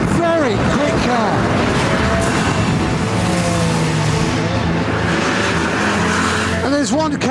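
A Lotus 211 sports car driving fast, its engine note loud and close, climbing and dropping in pitch through repeated gear changes, with a brief tyre squeal.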